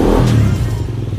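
A Yamaha Aerox scooter with a check-engine fault revs its engine, a loud, steady low engine drone holding close by with slight rises and dips in pitch, and no voices.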